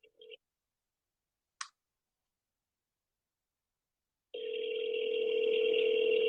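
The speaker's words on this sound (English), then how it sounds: "I'm clicking dial. It's connected to my phone," A phone placing a call through a dialing app: a couple of short electronic beeps and a click, silence, then a steady tone that starts near the end and holds to the finish.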